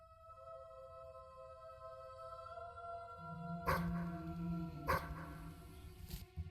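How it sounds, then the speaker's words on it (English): A dog barks in a video game, a few loud barks arriving in the second half over sustained game music tones. "Okay, dog's barking."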